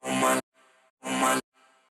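Twice, a short sung vocal phrase processed with Vocal Synth 2's polyvox effect, which layers a lower-pitched version under the voice, plays loud and upfront, each time followed by a softer, fainter tail.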